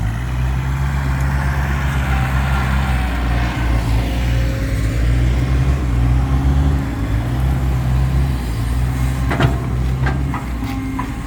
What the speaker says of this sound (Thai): รถไถก็เก็บงาน